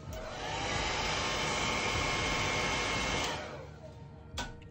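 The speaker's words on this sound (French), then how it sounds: "On va mettre un petit coup de sèche-cheveux" A hair dryer blows loudly and steadily for about three seconds while drying paint on a miniature, then switches off, followed by a brief click or knock.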